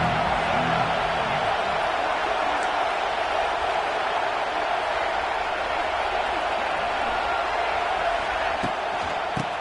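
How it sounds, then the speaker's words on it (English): A stadium crowd in a college football video game roars as a steady, dense wash of cheering noise, loud and continuous with no breaks, with no clear speech over it. "This crowd ready to make its presence known."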